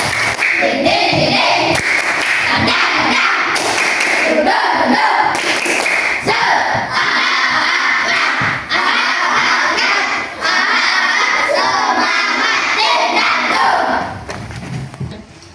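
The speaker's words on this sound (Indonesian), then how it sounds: "Tepuk semangat." A school class claps the rhythmic tepuk semangat spirit clap in loud, patterned bursts, with shouted chants from the pupils mixed among the beats.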